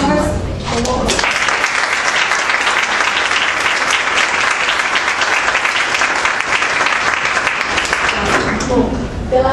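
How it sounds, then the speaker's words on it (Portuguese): A lecture audience breaks into loud, sustained applause, many hands clapping in a thick continuous roar that starts abruptly after a moment of quieter sound and fades near the end. "pela salva de palmas"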